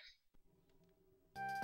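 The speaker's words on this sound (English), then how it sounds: "that is my phone going off" A phone goes off during a video game session, its loud, steady electronic ring cutting in abruptly near the end after a stretch of quiet, low game sounds.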